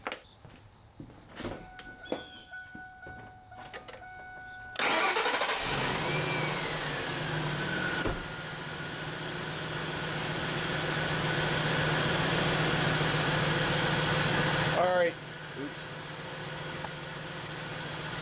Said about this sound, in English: So let's start the truck and I'll show you what's going on.